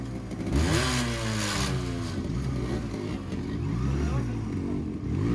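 A 98cc Yamaha RX motorcycle with a newly fitted piston revs repeatedly, its two-stroke engine rising and falling in pitch through several close, loud throttle blips.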